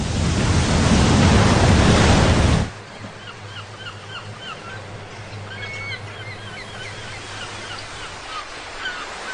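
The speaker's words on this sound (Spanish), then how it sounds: "la convulsión de la isla habría desencadenado un gran tsunami, una ola de 180 metros de altura" A colossal tsunami wave, roughly 180 metres high and set off by an island's violent upheaval, roars as a loud, dense wash for about two and a half seconds, then cuts off abruptly to a quiet outdoor ambience with scattered bird chirps.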